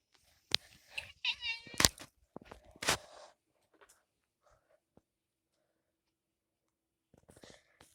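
A pet cat meows several times close by in a quiet bedroom at night, a cluster of short, bright cries followed by long silence and a few faint soft sounds near the end.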